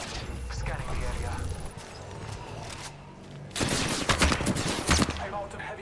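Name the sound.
gunfire in the video game Apex Legends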